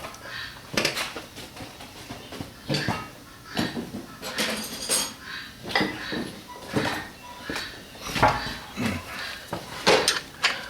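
Metal wrenches clinking and rattling as they are sorted and picked out for an oil change on a Mack truck, irregular close clanks spread over several seconds.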